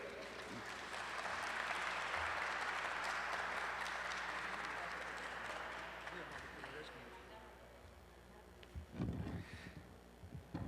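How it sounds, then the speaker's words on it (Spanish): An audience at a keynote conference lecture claps, a broad wash of applause that swells and then gradually fades, with a voice starting to speak near the end. "un aplauso para él"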